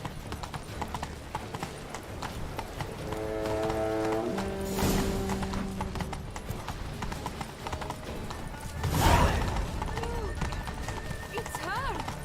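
Horse hooves clip-clop steadily as a rider travels in The Witcher 3: Wild Hunt, a continuous close trotting rhythm under game dialogue and music.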